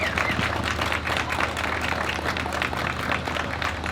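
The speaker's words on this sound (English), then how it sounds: "So if you could give a round of applause for her as well." Audience clapping fills the space at a community event, a steady patter of many hands applauding at moderate volume without a break.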